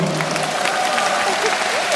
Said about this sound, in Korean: 정말 박수 감사합니다